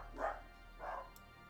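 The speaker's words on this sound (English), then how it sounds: "Who the hell is the dog barking at?" A dog barks twice in the background, faint and distant, two evenly spaced yaps over a quiet steady hum.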